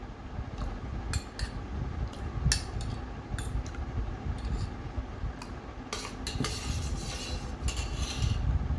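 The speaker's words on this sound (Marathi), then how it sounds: "आता इथे मिक्स करून घेऊया" A spoon stirs salt and powdered sugar into kokum sherbet, clinking against the glass in quick, irregular taps over a steady background hiss.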